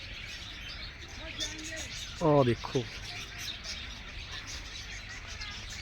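Bright bird chirps and calls from many bird species in an aviary at Chandigarh Bird Park, scattered over a background of many birds, with a short spoken remark near the middle.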